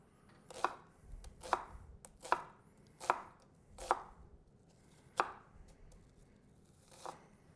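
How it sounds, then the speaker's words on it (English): A knife roughly chops an onion on a cutting board: about seven sharp, distinct thuds at uneven intervals, close and clear over quiet background, with no speech. "just give this a rough chop there"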